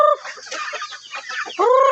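Chickens clucking close by, a quick run of short clucks ending in a longer, drawn-out call, loud and clear with no talk over it.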